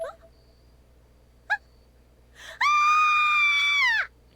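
Girl screaming in the Corpse Party: Blood Drive video game: a short gasp and a brief cry, then a sustained, piercing high scream of about a second and a half that cuts off abruptly.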